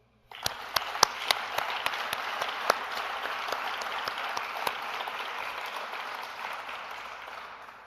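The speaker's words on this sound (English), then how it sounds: "Kale, Jose, Jenny, and Hugo, Paul and Yuri, this applause is especially for you." Sustained applause from a graduation ceremony audience for an Executive MBA class, a dense wash of many hands with sharp nearby claps standing out, starting abruptly and gradually easing.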